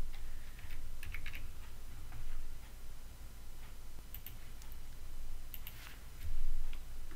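C# code is typed on a computer keyboard in quick, uneven bursts of light clicking keystrokes, close and fairly quiet, with short pauses between runs.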